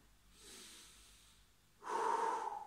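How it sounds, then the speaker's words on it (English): Deep breathing during a floor stretching routine, with a soft slow inhale followed by a louder, rushing exhale, close and clear, with no talking. "big deep breaths"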